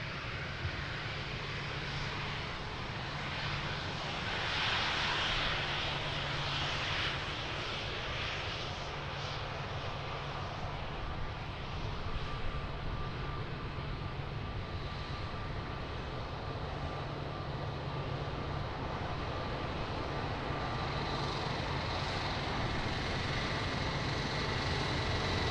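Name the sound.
Airbus A330 airliner engine at Lisbon Airport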